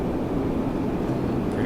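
Boeing 757-200 thrust reversers roaring on landing in Flight Simulator X, a steady loud broadband rumble with no pauses.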